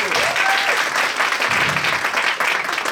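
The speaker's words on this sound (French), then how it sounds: "On l'applaudit, s'il vous plaît." Audience at a children's musical comedy show claps enthusiastically for a young performer, a loud, dense burst of applause with a few audible cheers, sustained for the full few seconds.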